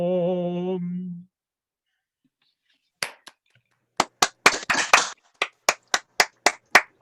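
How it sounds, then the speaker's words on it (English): Scattered claps from a small online group over a video call applauding a carol singer, a few sparse sharp hits at first, then a steady run of separate, evenly spaced claps, close and dry, after a short sung note and a silent pause. "all unmute yourself and give Fraser a round of applause."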